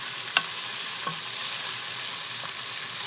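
Ginger-garlic paste frying in oil for a Bangladeshi chicken curry gives a steady close sizzle, broken by a few sharp scrapes of a spoon stirring through the pan, with nobody talking.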